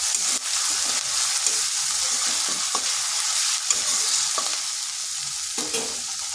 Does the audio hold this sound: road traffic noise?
no